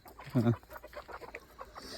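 Village hens cluck close by, with one louder cackling burst near the start followed by softer scattered clucks and farmyard murmur.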